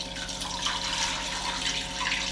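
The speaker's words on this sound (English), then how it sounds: "So the first thing we'll do is we'll put in the rest of the stock." Stock pours steadily into a pot of spicy Ethiopian lentil stew, a continuous rushing, splashy liquid sound that holds an even level throughout, near and alone.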